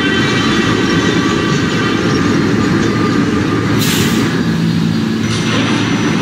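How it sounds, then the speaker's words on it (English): A Manhattan-bound Q express subway train rumbles steadily through Newkirk Plaza station in New York, a loud continuous roar of wheels and cars with brief squeals, no voices. "This is a Manhattan-bound Q Express train."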